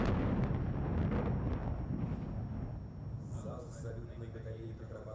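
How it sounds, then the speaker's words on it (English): Naval artillery fires blank shots during a Russian Navy Day parade. A loud, booming blast rolls out and decays over several seconds, with faint voices and crowd sounds afterward. "artillery is now firing blank shots to sign the commands of the Navy Day parade"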